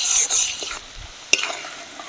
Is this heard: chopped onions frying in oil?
yes